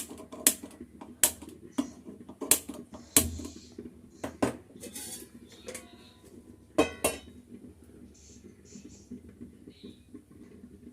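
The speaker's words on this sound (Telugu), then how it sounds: "స్టవ్ వెలిగించి బాండ్లు పెడదామండి" A wok is set on a home kitchen stove for cooking curry, giving several crisp metallic clanks and rattles up close against a quiet background, with faint voice traces.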